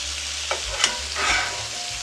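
Mushroom burgers frying in a pan, a steady close sizzle with a few soft clinks and scrapes as they cook, no voices.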